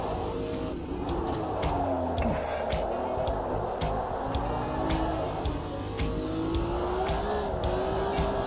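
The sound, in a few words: car engine driving in a racing video game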